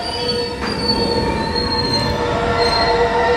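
A train rolls into Braunschweig main station at night, its wheels letting out a sustained high metallic squeal over a low rumble of rail noise, fairly close and continuous.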